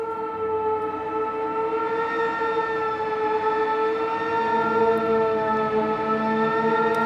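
Melancholia synth preset in the Cube synth plugin: a steady, sustained harmonic pad tone with a siren-like drone and a faint low rumble underneath, holding at even volume for the whole stretch, with no talking.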